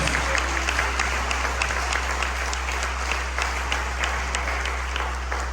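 Church congregation applauding during a Spanish-language sermon, sustained dense clapping from a crowd, steady and fairly near, with a low hum underneath.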